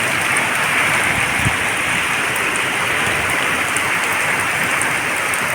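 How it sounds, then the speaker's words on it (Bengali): Hail falls along with heavy rain during a night storm, a loud, constant dense patter with scattered harder hits throughout. "সঙ্গে শিলও পড়ছে"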